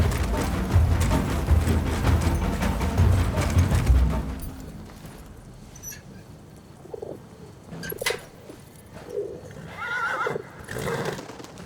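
A loud horse whinny with rumbling hoofbeats, then quieter scattered clip-clops and bird cooing in the background, in the video game Battlefield 1.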